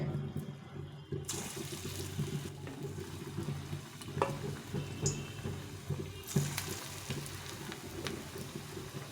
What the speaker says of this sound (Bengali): এখন আমি এই এগুলো বড়াগুলো ভেজে নেব একদম ফুলুরির মতো হবে